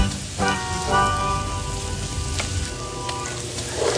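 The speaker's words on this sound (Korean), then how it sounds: "원형 화덕에서 지글지글 익고 있는 고기들은 텍사스 전통 바비큐를 자랑하며" Meat sizzles in a round wood-fired oven for traditional Texas barbecue, a continuous close crackling hiss with a few sharper pops and no talk.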